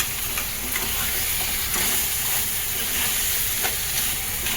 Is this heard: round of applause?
no